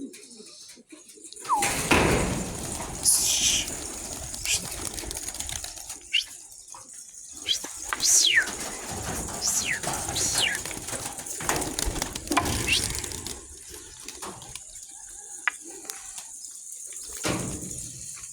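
Pigeons at and around their coop give scattered coos and wing flaps, with sharp chirps and brief rustling bursts over a quiet background.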